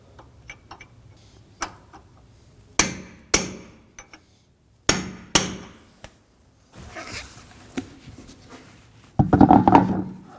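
Sharp metallic hammer strikes peening an axle nut on a 2016-2022 Honda Pilot rear wheel hub, a series of separate close blows with pauses, ending in a brief scraping clatter.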